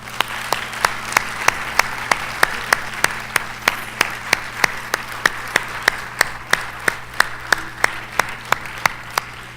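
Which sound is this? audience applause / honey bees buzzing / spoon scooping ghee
audience applause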